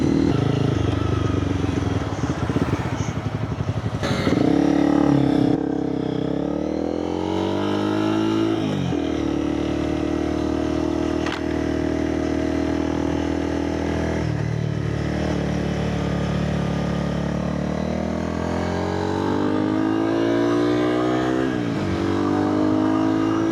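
Motorcycle riding a winding road through curves, its engine droning loudly and steadily close to the rider, with the pitch rising and falling as it accelerates and eases off through the bends.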